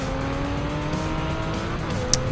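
Racing cars from Project Cars sliding with rear wheel spin: steady, close engine drone with layered tonal whine and a faint tire hiss, holding level for a couple of seconds with a brief sharp tick near the end.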